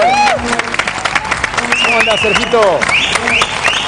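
Studio audience applause for Sergio de Nigri on a live Argentine TV talk show, a dense wash of clapping and cheering running under a host's loud talk throughout.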